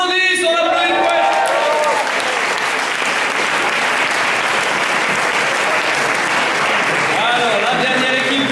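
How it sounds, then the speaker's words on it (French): An audience at a French poetry slam applauds a poet after the scores are read, a dense, steady wash of clapping that holds for the whole stretch, with a voice speaking briefly over it at the start and again near the end. "on applaudit le poète."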